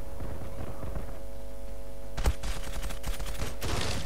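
Rapid bursts of M468 rifle fire in the video game Zula, with loud sharp shots clustering in the second half over a steady electronic hum.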